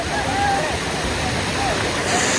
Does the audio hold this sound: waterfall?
yes